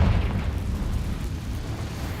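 Confringo fire spell exploding in the Hogwarts Legacy video game, a loud, dense, sustained rumbling blast with a booming low end that holds steady for a couple of seconds with no talking.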